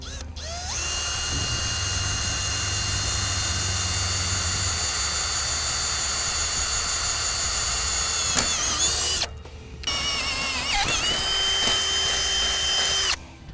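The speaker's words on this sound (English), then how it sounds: "I'm gonna use a small pilot bit and then open it up to my final size using the step bit" A drill whines loudly and steadily as a step bit opens up a pilot hole, its pitch dipping as the bit bites, then stops briefly before revving up again for a second pass.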